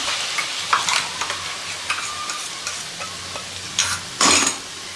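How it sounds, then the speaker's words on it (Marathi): Masala for dahi chole sizzling in oil while a spoon stirs and scrapes the pan, steady frying hiss with intermittent louder scraping bursts, no voices. "हा मसाला पण आपल्याला तेल सुटेपर्यंत परतवून घ्यायचा आहे"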